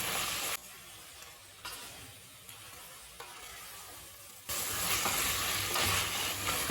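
Mixed vegetables and potato sautéing in a pan for coconut milk rice, a steady close sizzle and hiss that flares louder at times as they are stirred, with no talking.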